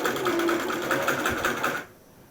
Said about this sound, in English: I have to press the button to sew